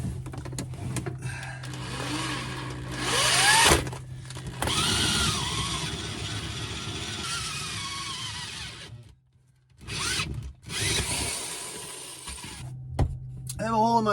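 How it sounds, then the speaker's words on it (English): A power drill bores a 2-inch hole through an RV floor into the basement compartment, its whine rising and falling in bursts with grinding cuts, a brief pause near the middle before drilling resumes, with hum underneath. "we're going to be drilling a 2-inch hole"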